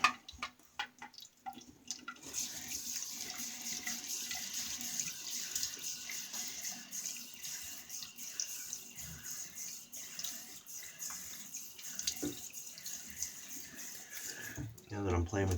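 Sink tap running steadily while hands are wetted under it, a close hiss of flowing water with splashes and drips, starting after a couple of seconds of handling noise and stopping near the end.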